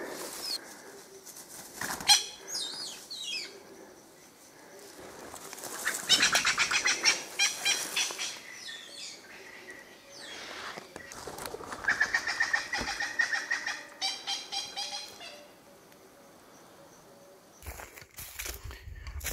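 A spurfowl in the Limpopo Valley, with clucking and cackling calls in several rising bursts and wing-flutter noise, fairly close, alone over a quiet background.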